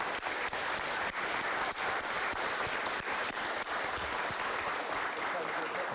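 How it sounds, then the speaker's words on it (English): A room of people applauds the graduates of a program at a Half Moon Bay City Council meeting, with steady, dense clapping that lasts the whole stretch and a few voices beneath it. "let's give a round of applause to all the net graduates"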